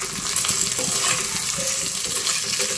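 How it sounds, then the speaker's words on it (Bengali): Cubed potatoes with onion and chili fry in oil in a pan, giving a steady close sizzle mixed with scraping stirring sounds and no talking. "আলুগুলোকে ভালো করে একটু ভেজে নিয়ে"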